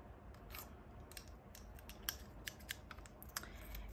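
Erin Condren scissors being handled up close: a quiet scatter of small metallic clicks and snips at irregular intervals, no voices.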